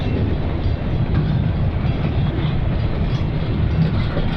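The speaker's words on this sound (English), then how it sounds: "We're having to wait on a train." A freight train rumbles past close by, a steady loud roar of rolling railcars with rhythmic clickety-clack from the wheels, no voices.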